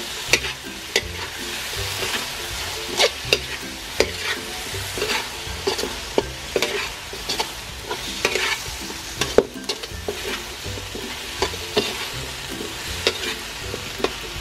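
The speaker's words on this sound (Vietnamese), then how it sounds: "các bạn sẽ cho đậu bắp vào mình xào nhanh nha" Okra is stir-fried quickly in a pan with a thickened sauce, a constant loud sizzle broken by frequent sharp scrapes and clacks of the utensil, close by and free of speech.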